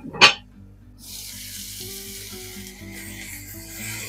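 Salted meat browning in a hot pan, a steady close sizzle and crackle running throughout after a brief sharp clatter at the start, with no talking.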